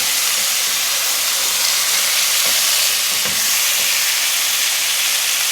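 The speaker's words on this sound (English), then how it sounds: "We're gonna go ahead and flip these. To sear the other side, you want this nice brown crusty sear on each side." Pork chops searing in a hot pan give a loud, dense, unbroken sizzle and hiss close up, with a couple of soft knocks partway through.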